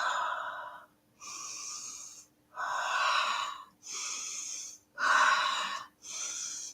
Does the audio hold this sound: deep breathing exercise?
yes